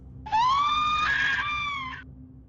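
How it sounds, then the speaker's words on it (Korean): A single drawn-out, high-pitched scream in a horror story, rising sharply then wavering before cutting off, loud and alone over a faint low hum. "찢어질 듯한 친구들의 비명소리가 들리더래요"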